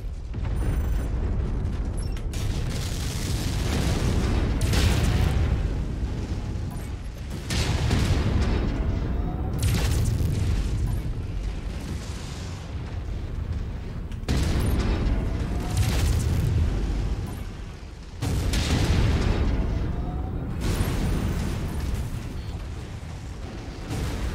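Repeated heavy explosions from destroyed targets in MechWarrior 5 Mercenaries, booming in loud bursts every few seconds over a dense mechanical rumble of combat, close and continuous with no talk.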